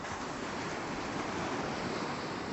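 Sea waves wash in across the beach on Iona, spreading in a fan shape, a steady broad hiss of surf with some wind noise, fairly close and uninterrupted by any voices.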